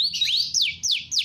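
A lovebird sings a canary-style phrase, a bright run of rising then sweeping downward whistled notes repeated about four times in quick succession, close and clear with no talk.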